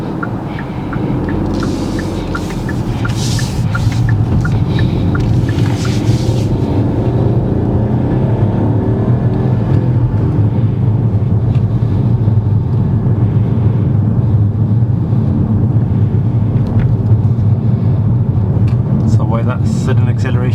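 A car accelerates suddenly along a road, its engine building into a steady, loud rumble that holds for the whole stretch, with no talking over it.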